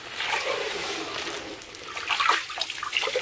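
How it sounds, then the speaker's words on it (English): Water running and splashing from a live well pulled out of an ice-fishing hole, holding two crappie and a bluegill; a steady wash of trickling and dribbling, close by, swelling briefly near the end. "we got the live well out of the water here"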